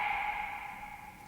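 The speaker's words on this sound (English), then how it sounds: "I just added a nice little snap, very drowned in reverb, so that it would feel very far away as well" Finger snap sample drenched in long reverb and panned slightly right, heard as a distant, faint ringing tail that slowly fades, alone without talk.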